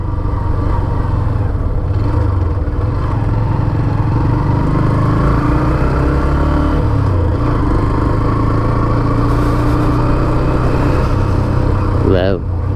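A Hero Xtreme 125R motorcycle engine drones steadily and loud while riding, with broadband road and wind noise throughout and a brief rising rev near the end.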